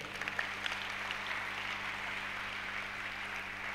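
A church congregation applauds the Lord with steady, moderate clapping that sounds somewhat distant and reverberant, continuing evenly throughout with no talk over it.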